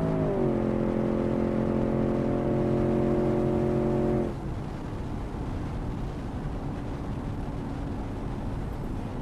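A race car engine revs hard in a drag race in the Automation driving game, steady layered harmonics holding loud for about four seconds before dropping into a lower, rougher engine drone.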